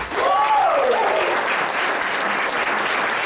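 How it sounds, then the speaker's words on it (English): An audience at a business presentation gives a round of applause, a steady, dense wash of clapping that holds for several seconds, with a brief whoop or cheer near the start. "Give him a round of applause!"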